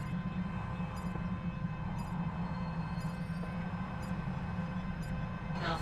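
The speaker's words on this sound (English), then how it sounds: "The train is leaving the station now." A train pulls out of a station in the video game Alpha Prime, a steady, loud low rumble and hum running throughout, with faint periodic high clicks overhead and a brief burst of noise right at the end.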